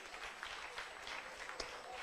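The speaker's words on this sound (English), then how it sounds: "Let's give a clap for Jesus." Soft, scattered audience clapping at a church-style talk, faint and distant, with a few sharper claps standing out from the low patter.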